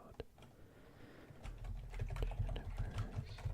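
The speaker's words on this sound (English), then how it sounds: "I wonder how well you'll be able to hear my typing." Rapid typing on a computer keyboard during a quiet ASMR session, a dense run of close, fairly loud key clicks and clacks that start sparse and then keep going steadily, with no talking.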